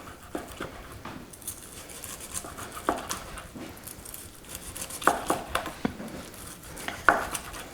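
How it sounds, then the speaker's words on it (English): A sharp knife slices through crust-coated roast meat on a board, with irregular soft cuts and a few sharper knocks of the blade, close and fairly quiet. "You want to use a nice sharp knife for this job so that it cuts right through the coating without ripping it off the meat."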